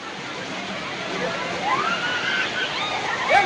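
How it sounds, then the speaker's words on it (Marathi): Fast-flowing floodwater surges through Nashik streets during heavy rain, a steady, loud rushing roar close by, with faint voices and brief thin tones over it. "या ठिकाणी पाण्याचा खूप मोठा वेग आहे, ज्यामध्ये वाहनं काही किलोंची वाहनं वाहून चाललेली आहेत"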